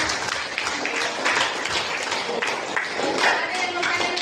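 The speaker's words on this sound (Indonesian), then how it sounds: "Tepuk tangan untuk kita semua." Schoolroom applause from students after a chemistry lesson on making colloids, a continuous patter of many hands clapping at even strength with voices mixed in beneath.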